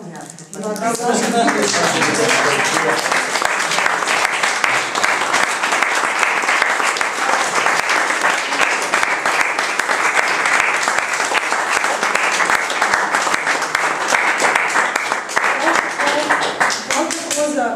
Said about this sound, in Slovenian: še enkrat na tem mestu zaploskati